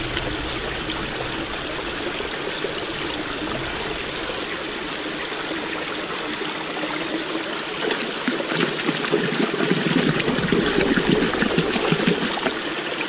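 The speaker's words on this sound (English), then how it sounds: "it has water in it, but it's usually not running this much" Rain-swollen water runs through a creek crack, rushing and trickling steadily and close by, growing slightly louder and more splashy toward the end, with no talking.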